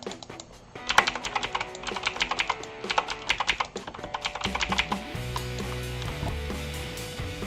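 Quick clicking keystrokes on a computer keyboard as a port number is entered during NAS setup, coming in close, uneven bursts of taps that turn into a denser, steadier patter near the end, with no voices.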